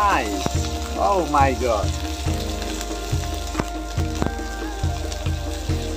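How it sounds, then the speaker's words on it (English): Onion and chili sizzle and crackle in hot oil, a loud, continuous spattering fry with scattered pops, while a person speaks briefly over it. "the oil is sprinkling here. Because this is totally warm now."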